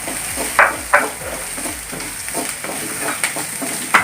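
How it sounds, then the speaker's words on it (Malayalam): Chillies are sautéed with onions in a pan for bread upma, with a continuous close sizzle broken by quick spatula scrapes and knocks at an uneven rhythm. "ഇനി ഇതിലേക്ക് നമുക്ക് ഈ മുളക് വഴറ്റി കൊടുക്കാം"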